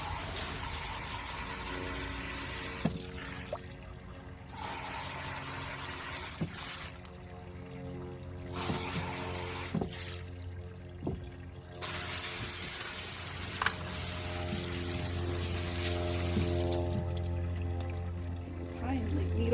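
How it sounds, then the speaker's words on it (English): Water from a tap sprays and splashes while a rock tumbler's lid and barrel are rinsed out after a run with coarse silicon carbide grit, a close hissing rush that stops and restarts several times with brief quiet gaps and light knocks. "Do a quick rinse of the lid,"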